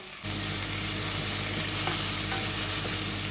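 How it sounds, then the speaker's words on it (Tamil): Ginger, garlic, mint and tomato sautéing in a pan for vegetable pulao give a steady, close sizzle with scraping stir sounds running throughout, no voices. "கொஞ்சம் கேரட் அப்புறம் ஒரு உருளைக்கிழங்கு கொஞ்சம் இது லைட்டாக வதங்கட்டும்"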